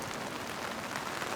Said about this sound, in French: Une merveilleuse pluie de mousson.